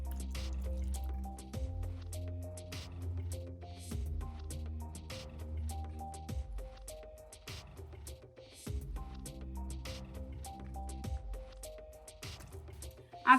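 Pizza dough of flour, salt and poured-in yeast mixture is stirred by hand, giving soft, wet squishing and dripping sounds under steady background music.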